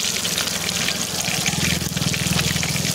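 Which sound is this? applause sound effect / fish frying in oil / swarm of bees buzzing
fish frying in oil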